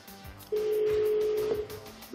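Telephone ringing tone on an outgoing call, a single steady electronic tone lasting about a second, then falling silent again.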